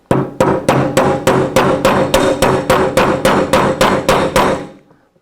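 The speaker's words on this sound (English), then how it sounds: "We will take a retaining pin and using our hammer," A hammer taps a retaining pin into a Daisy Model 1903 drill rifle: about fifteen sharp, evenly spaced metallic blows, close and loud, with no talking.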